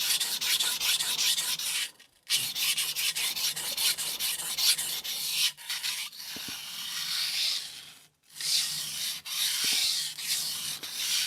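A blade is sharpened on a 400 grit sintered diamond stone, producing steady, close abrasive scraping and rasping strokes that break off in two short pauses, with no voices.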